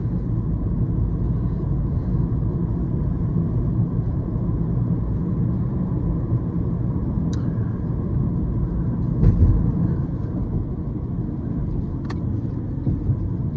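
Inside a 2023 Toyota Prius Prime on the move, a steady low road and cabin rumble continues throughout with a few faint ticks, and no one is talking.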